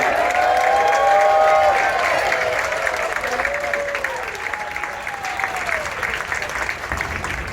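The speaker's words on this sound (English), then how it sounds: "Ladies and gents, make some noise for Richard." Diners in a cruise ship dining room aboard the Ruby Princess break into loud applause and cheering for the executive chef, a dense crowd roar with whistles over it that slowly fades.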